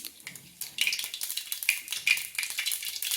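Mustard seeds and cumin crackle in hot oil for tempering, a bright close sizzle with rapid irregular pops and spits that grows louder after a quieter start.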